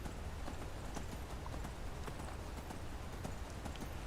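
Horse hooves galloping in the video game Skyrim, a steady rapid clip-clop of hoofbeats at close range over dense wind-like background noise.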